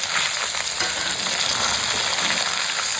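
Boiled taro stolons with potatoes fry in a pan, a loud, continuous sizzle with a bright crackling hiss throughout and no talking.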